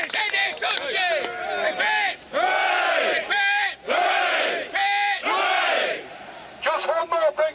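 A crowd at a remembrance parade and march cheers loudly for veteran Dennis Hutchins, with repeated bursts of many overlapping shouts and yells separated by brief pauses.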